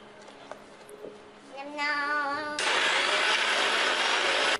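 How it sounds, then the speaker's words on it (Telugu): An electric kitchen grinder blends oil-fried dried red chillies and cloves into a masala paste: quiet kitchen sounds at first, then a rising motor whine that bursts into a loud, steady, harsh grinding roar. "ఎండుమిరపకాయలు, లవంగాలు ఉన్నాయి కదా, వాటిని కూడా వేసి బాగా గ్రైండ్ చేసుకోవాలి"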